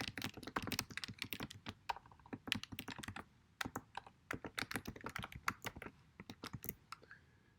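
Rapid, uneven keystrokes clatter on a computer keyboard as an email address is typed in, close and clear with short pauses between bursts and no voices.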